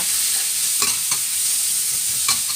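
Pork belly stir-fried in a wok with chili and garlic, a constant close hissing sizzle with a few scattered scraping knocks from the spatula, no voices.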